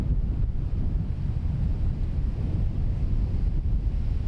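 Wind blows across an open golf course and buffets the microphone, making a loud, steady, low rumbling roar with small gusty swells and no other clear sounds.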